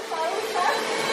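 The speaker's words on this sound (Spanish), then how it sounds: "¿Por qué estás usando la aspiradora" A vacuum cleaner runs at home with a steady whirring hum, close and fairly loud, while a person talks over it.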